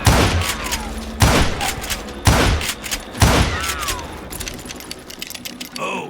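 Repeated loud gunshots from the Call of Juarez: Gunslinger video game, four sharp blasts about a second apart with ringing tails and ricochet-like whines, followed by scattered smaller clicks and shots.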